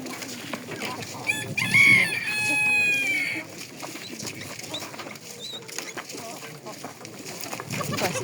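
A rooster crows loudly nearby at a town fair in Berdychiv, followed by softer clucking and rustling in a busy outdoor setting.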